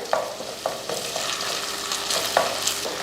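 Ginger-garlic paste sizzling in a pan while a spoon stirs and scrapes in quick, irregular strokes, close up and without voices.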